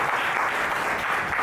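An audience at a Gujarati literary gathering (Granth Goshti) claps steadily, a dense wash of applause throughout with no voices on top.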